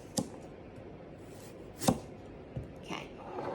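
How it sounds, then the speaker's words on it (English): Knife chopping carrot and ham on a board for rolled egg, with a few sharp, separate chops that stand alone against quiet kitchen background. "Now chop the carrot and ham as small as you can."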